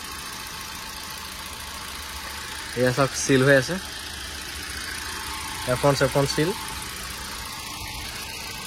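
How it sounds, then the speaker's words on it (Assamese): A car engine idles with a low, steady hum throughout, and a person talks briefly in two short bursts over it. "গাড়ী ষ্টাৰ্ট হৈ আছে এখনত ইঞ্জিনৰ নইজে নাই"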